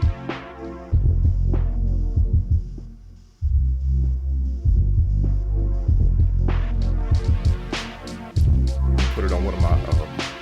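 An Elektron Digitakt drum machine plays a pattern of heavy, booming low kicks and thuds with brief clicky hits, pulsing in a steady rhythm that pauses briefly partway through.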